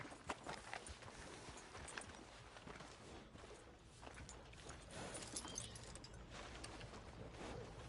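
Horse hooves clip-clop steadily through a video game scene, the footfalls moderately loud over a dense bed of background game ambience and music, with no voices.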